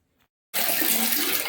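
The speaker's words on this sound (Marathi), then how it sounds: "आपण चावीचं पाणी सोडलेलं आहे सोलरच्या" Water gushes from a tap fed by a solar water heater after a moment of silence, a loud steady rushing stream that continues to the end.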